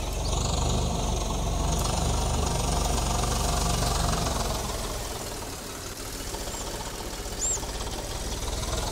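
In Farming Simulator 22, a tractor engine runs with a steady, close, low chugging rumble and knock, easing slightly in the middle before picking up again, with a faint brief squeal near the end.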